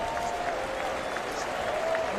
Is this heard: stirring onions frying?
no